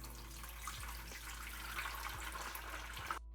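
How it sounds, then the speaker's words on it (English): Homemade chicken stock pours through a strainer into another container, a continuous splashing liquid stream with faint clinks, fairly close and steady before cutting off abruptly. "now we'll just strain it off into another container"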